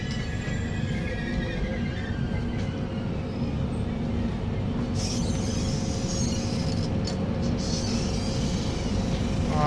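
The Devagiri Express slows to a stop at Limgaon station, a steady low rumble of a train rolling along the tracks filling the whole stretch, with faint clanks and a hiss near the end.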